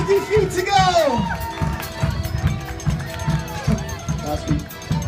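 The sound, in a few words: audience cheering on contestants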